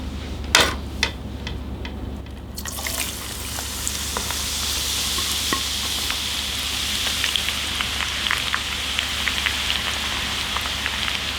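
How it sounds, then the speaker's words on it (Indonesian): Minced garlic frying in hot oil in a home kitchen, a steady, crackling sizzle dotted with small pops and spatters that starts with a few sharp ticks and settles into a continuous hiss. "Sekarang kita mau goreng bawang putih yang udah kita cincang."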